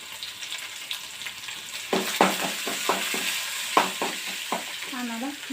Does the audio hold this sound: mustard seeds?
yes